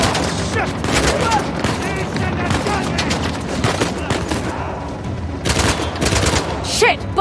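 Rapid gunfire from Uncharted: The Lost Legacy, dense bursts of shots crackling throughout with loud booms, mixed with shouting voices and game music.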